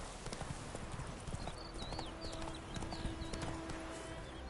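The horse Roach gallops in The Witcher: Wild Hunt with a fast, steady clip-clop of hooves up close, over continuous ambient noise, with faint tonal game sounds in the background.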